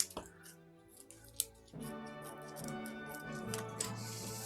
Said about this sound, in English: These scissors really aren't liking this plastic bag.